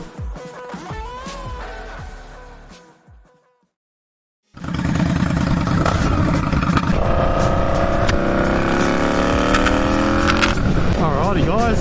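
An Indian Scout motorcycle gets underway: a few seconds of sound at the start, then a short silence, then the engine cuts in loud and steady, its pitch climbing as it rides on.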